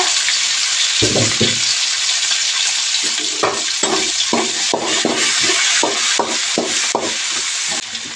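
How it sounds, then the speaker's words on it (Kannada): Chopped onion and tomato fry in a pan for a palak paneer gravy, a loud continuous sizzle broken by repeated scraping stirs, with no voices. "ಕಟ್ ಮಾಡಿರೋಂಥ ಈರುಳ್ಳಿ ಮತ್ತು ಕಟ್ ಮಾಡಿರೋಂಥ ಟೊಮೊಟೊ ಇಷ್ಟನ್ನು ಹಾಕಿ ಚೆನ್ನಾಗಿ ಫ್ರೈ ಮಾಡ್ತೀನಿ"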